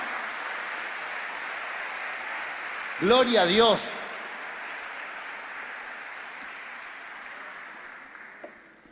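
Steady applause from a church congregation fills the background throughout, with a voice briefly speaking over it before the clapping slowly fades.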